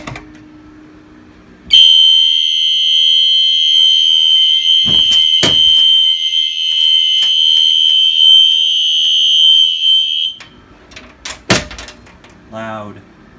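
A BG10 pull station sets off a fire alarm system that blares as one steady, loud electronic tone for about eight seconds before cutting off, with clicks and handling noises around it and brief talk afterward.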